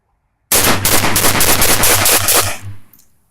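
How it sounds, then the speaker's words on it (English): Benelli M2 semi-auto shotgun emptying a full magazine outdoors, a loud rapid string of blasts packed together for about two seconds before ringing off into silence. "So we'll burn a mag through this with the same ammo."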